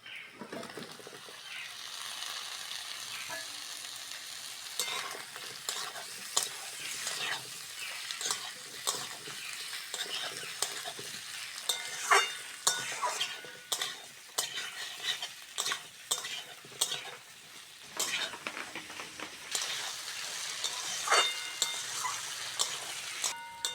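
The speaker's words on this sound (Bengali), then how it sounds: "পেঁয়াজ আলু ভালো করে ভেজে নিয়েছি" Potatoes and onions fry softly in a pan for a tilapia curry, a gentle continuous sizzle broken by frequent clicks and scrapes of a spoon stirring them.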